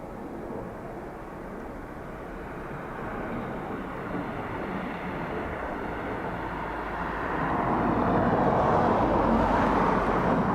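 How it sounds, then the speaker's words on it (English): An Aeromexico airliner lands at Dublin Airport in a crosswind, its engines a broad, steady jet roar that builds and grows louder toward the end, heard from a distance outdoors without talk. "That was Aero Mexico, was it?"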